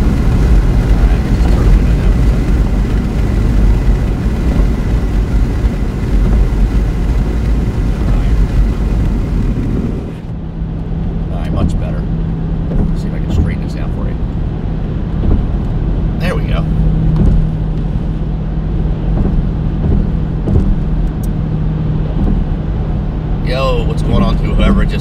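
A car heater blower motor hums steadily beside road and engine noise while the car drives north on I-95 past a stadium complex. The hum drops in level partway through, and a person talks over it.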